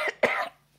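A man coughs twice in quick succession, close and fairly loud, during a Sunday school Bible lesson, with silence afterward.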